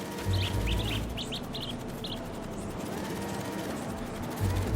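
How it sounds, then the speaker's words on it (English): A bird in Marvel's Spider-Man 2 gives a quick series of short high chirps, clustered in bursts over about two seconds. They sit mid-distance above a busy city game ambience with low rumbles. "I need to shoo this bird back to wherever it came from."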